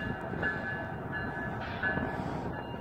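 A freight train rolls past at a steady, moderately distant rumble with faint tonal squeals and a continuous wheel-on-rail drone, heard near the Pueblo Grande ruins in Phoenix, Arizona.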